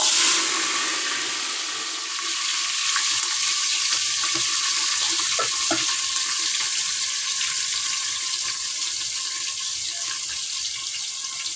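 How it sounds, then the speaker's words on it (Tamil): Small shallots sizzle in hot oil with popped mustard seeds, a sambar tempering in the pan, giving a steady close-up frying hiss throughout with no voices. "சாம்பார் வெங்காயம் கொஞ்சம் எடுத்து வச்சுருக்கேன், அது போட்டுக்கலாம்."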